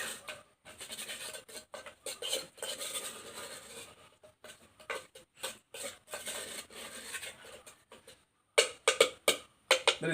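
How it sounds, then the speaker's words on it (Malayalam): Palayankodan bananas being stirred with jaggery in a pan: irregular runs of scraping clinks and taps from the utensil against the pan, close and moderately loud, with brief pauses and no voices. "ശർക്കരയിട്ട് ഇതിൻ്റെ എല്ലാ ഭാഗങ്ങളിലും ശർക്കര ഉള്ളത്തക്ക രീതിയിൽ നമ്മളൊന്ന് ഇളക്കി കൊടുക്കണം"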